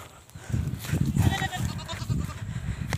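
Goats bleating while being moved onto new grassy pasture, with several low, throaty calls and shuffling livestock noise continuing throughout, fairly close.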